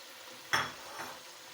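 Chopped onions hitting hot oil in a pan while cooking aloo gosht, a sudden loud sizzle that quickly fades to a softer frying hiss, with no talking.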